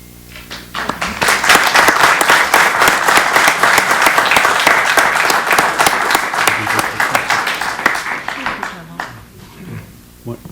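A township council meeting audience applauds an honoree, rising quickly into loud sustained clapping that tapers off near the end as voices begin talking.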